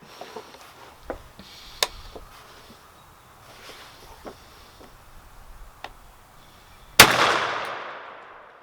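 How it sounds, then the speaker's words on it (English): A Stoeger M3500 shotgun fires a single Longbeard XR turkey load at a target 20 yards away outdoors; one loud sharp blast with a decaying tail follows several seconds of quiet ticking and small knocks. "I'm going to be shooting the left target."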